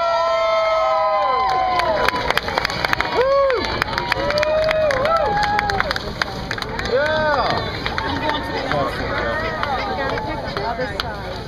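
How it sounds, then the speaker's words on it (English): A crowd at a parish fair cheers and whoops for the New Orleans Saints, loud shouts and rising yells from many people, with an announcer speaking between bursts. "All right, crowd, we can do a little better than that for our New Orleans Saints."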